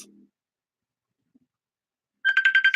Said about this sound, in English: Sorry, my daughter is on the phone.